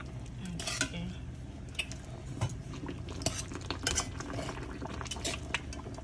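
Homemade Haitian-style spaghetti stirred in a pot, a steady bed of scraping and clinking utensil sounds over a low kitchen hum, with no talk.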